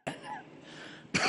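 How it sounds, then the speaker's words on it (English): One harsh, raspy cough or throat-clear sounds up close, followed by a sharp burst at the end. "with a cold, and while coughing."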